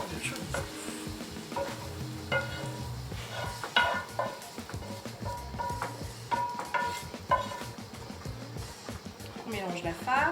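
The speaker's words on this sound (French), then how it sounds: "Et notre mélange donc d'oignons, d'ail, de tentacules et de chorizo" Onion, garlic, squid tentacle and chorizo mixture being stirred together with quinoa, soft wet scraping and clinks of utensil against pot with a light sizzle beneath, under a voice talking.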